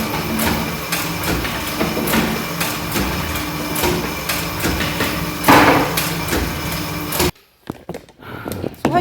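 Automatic Proctor compaction rammer repeatedly striking a soil sample, a loud rapid series of mechanical blows with machine rattle, cutting off abruptly near the end and leaving quieter scattered sounds.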